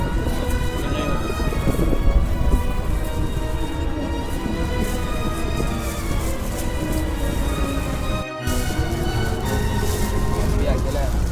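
Rain falling steadily in Al Rigga, Dubai, a constant close hiss broken by one brief drop in level, with people talking over it.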